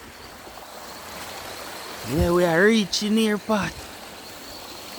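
A jungle river stream flows with a soft, steady wash of water in the background, and someone speaks briefly over it midway.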